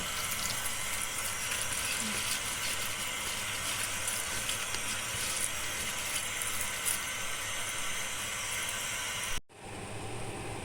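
Butterfly pea sticky rice being rinsed in water makes a steady, close wash of running and sloshing water that continues evenly before cutting off abruptly near the end.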